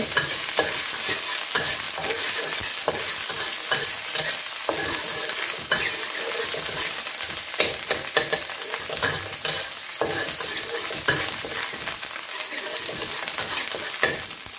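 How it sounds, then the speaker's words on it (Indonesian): Garlic sautéing in hot oil, a dense steady sizzle with frequent scraping stirs throughout, close and loud. "panaskan dulu minyak terus kita tumis dulu bawang putih ya"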